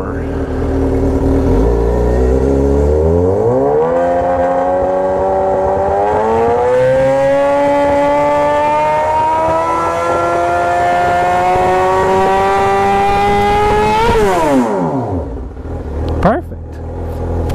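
A Suzuki Gixxer motorcycle engine revs up from idle, holding a high rising drone for about ten seconds before dropping back, loud and close, with brief talk near the end.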